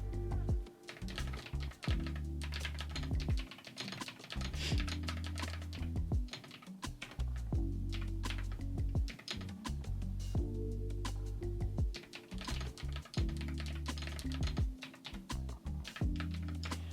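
Steady typing on a computer keyboard, dense bursts of quick clicking keystrokes close up, with brief pauses between runs and no voices.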